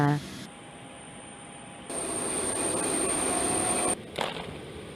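Jet engine of the Bhutanese royal aircraft, flown by the king himself, gives a steady high-pitched whine over a broad rumble that swells midway and then drops away, with a voice talking over parts of it.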